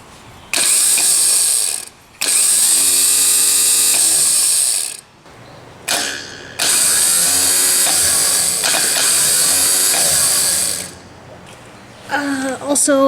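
A Honda Acty kei truck starter motor, removed and bench-tested on 12-volt power, whirs and grinds loudly in several separate bursts of a few seconds each, with short pauses and clicks between them.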